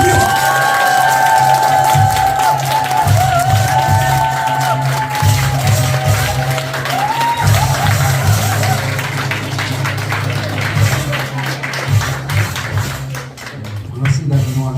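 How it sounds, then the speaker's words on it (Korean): Audience at an indoor health seminar giving steady, loud applause that fills the room for the whole stretch, with crowd noise and a few cheers mixed in. "뜨거운 박수 부탁드립니다"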